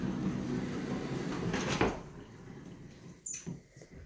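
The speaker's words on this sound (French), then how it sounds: "Donc là on a la porte coulissante." A sliding bathroom door in a newly finished apartment under renovation, rolling along its track with a soft rumble, then a quick thud and a light knock as it settles, fairly quiet and close.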